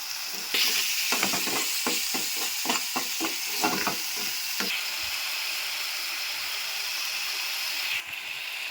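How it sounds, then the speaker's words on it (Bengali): Ginger, garlic and onion paste sizzles steadily in a hot pan while a spatula scrapes it in quick, rhythmic strokes that stop partway through. The frying hiss carries on loud and close without a break. "এই পেস্টটাকে এবার এগুলোকে ভালো করে কষিয়ে নিতে হবে।"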